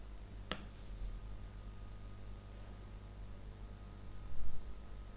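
A single crisp computer mouse click, close and sharp, sounds near the start while selecting a sitemap in a website tool, followed by steady low room hiss.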